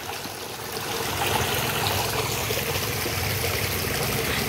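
Steady rush of clear stream water flowing in a spice garden at Mankulam after rain, a continuous broadband wash that swells slightly after the first second and holds level throughout, with no talking.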